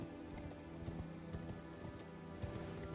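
A horse's hooves clip-clopping at a steady walking rhythm in a video game, faint and continuous under a low background drone, with no voices.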